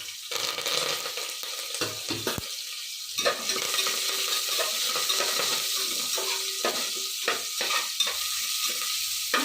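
Onion and curry leaves fry in a pan, a crackling sizzle broken by frequent spatula scrapes and light metallic clinks, busy and close throughout.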